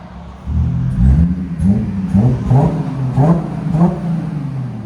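A 2016 Audi A7 with a 3.0-litre supercharged V6 and Borla ProXS exhaust with muffler delete revs to about 4,000 RPM, loud and nearby, in several deep rising blips over a rumbling idle.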